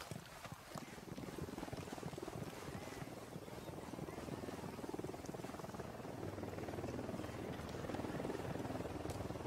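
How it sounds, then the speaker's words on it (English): A helicopter drones steadily in Ghost Recon Wildlands, a continuous rotor rumble at moderate distance filling the whole stretch with faint gunfire-like ticks and background game noise. "Helicopter, get down."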